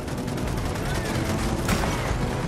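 Rapid sustained gunfire fills a firefight in the video game Gears of War 4, dense and continuous with a louder burst near the end, while voices are faintly mixed beneath the shooting.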